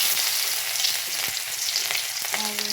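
Whole cumin and cinnamon with chopped onion hitting hot oil give a loud, continuous close-up sizzle and hiss, steady throughout, with a few faint clinks near the end and no voices.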